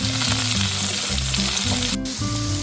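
Chopped green onions fry in a hot pan for chicken fried rice, giving a steady close sizzle with a low humming tone running underneath, and no talking.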